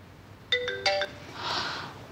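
A phone ringtone for an incoming call chimes in two short bursts of bright electronic tones, fairly quiet and clear, followed by a soft rustle.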